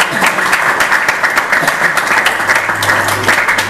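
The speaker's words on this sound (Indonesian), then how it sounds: "Tepuk tangan." Students at an Islamic boarding school in Bogor break into a loud, dense round of clapping during a writing workshop, with many hands beating steadily and a low hum under the applause.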